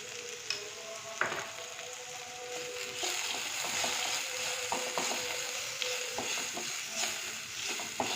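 Chopped vegetables and salt frying in a pan for bread crumb upma, a steady sizzle broken by scraping spatula strokes and light clicks against the pan, close and fairly quiet.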